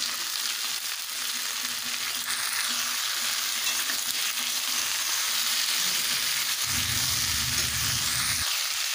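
Vegetables such as brinjal and squash fry in a pan of hot oil for a Bengali pui shak and pumpkin dish, giving a steady, even sizzle, with a stirring sound late on and no talking.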